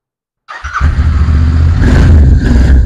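A used 2019 Royal Enfield Interceptor 650 with about 11,000 km starts up and revs in a second-hand bike showroom, a loud, close, continuous engine note after brief silence, rising slightly in places.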